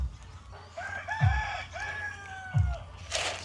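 Chickens on a farm cluck and a rooster crows in drawn-out rising calls, with two deeper thumps cutting through and steady background farm noise, all fairly close and without talking.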